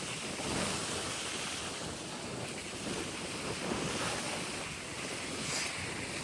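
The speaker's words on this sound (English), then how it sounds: "even today, the waves are crashing up onto the path." Waves surge up onto a damp coastal path beside the sea, a continuous rushing wash of surf rising and falling in loudness, with wind noise across the microphone.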